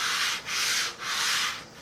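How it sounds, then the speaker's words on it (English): Fiberglass filler on a car body being sanded by hand, three steady rasping back-and-forth strokes with brief pauses between, close and fairly loud with no talking. "Just finishing up the sanding."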